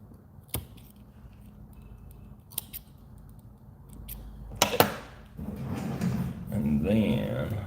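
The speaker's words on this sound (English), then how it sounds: "we'll trim off these butts" Scissors snip the trimmed butts of fly-tying material at a vise, giving a few sharp, close clicks spread through the clip. Soft handling noise and rustling build toward the end.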